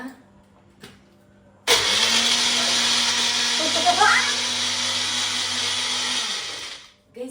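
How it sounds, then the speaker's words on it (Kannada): A mixer grinder whirs loudly for several seconds while blending cold coffee, with a steady close motor roar that fades and stops. There is faint clatter before the motor starts. "ಇವಾಗ ಚೆನ್ನಾಗಿ ರುಬ್ಬೋಣ"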